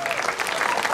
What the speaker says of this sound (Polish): gorące brawa jeszcze raz dla nich